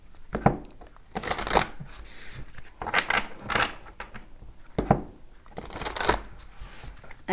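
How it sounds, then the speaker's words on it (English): Tarot cards are shuffled hard and fast in close, crisp riffling bursts that come in several rhythmic rounds over a few seconds. No one speaks. "So let's do a really good shuffle here for you, Aquarius."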